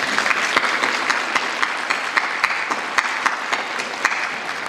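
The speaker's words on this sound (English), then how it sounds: "join me in a round of applause right now for these two great organizations" Audience applause at a 2024 Veteran's Day program, a dense, steady wash of many hands clapping, loud and close, holding evenly throughout with no talk over it.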